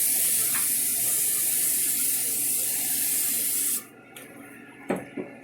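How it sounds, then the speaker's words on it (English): A loud continuous hiss of non-stick cooking spray onto a pan for several seconds, then cuts off, followed by a couple of light clanks nearby. "get that non-stick spray from me. And hit that pan over there for me"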